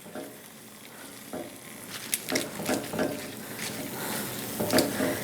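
Spinach being tossed with kitchen tongs in a brothy pan, a soft wet stirring and light sizzle with scattered clicks of the tongs, close and moderately quiet with no talking.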